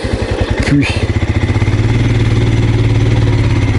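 A Royal Enfield Scram 411 single-cylinder engine idles loud and close on a country road in the Vosges, a deep, even thumping pulse with a brief mechanical clack near the start.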